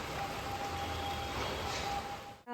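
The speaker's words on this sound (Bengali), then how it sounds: "এই যে বৃষ্টি পড়ছে" Steady, even rain noise fills the whole stretch, a dense hiss with no voices, cutting off abruptly at the end.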